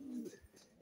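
A nesting pigeon gives a short, low coo close by, one soft throaty call lasting under half a second before fading into quiet room noise.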